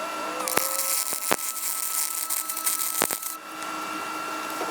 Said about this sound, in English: Now final welding of a left side.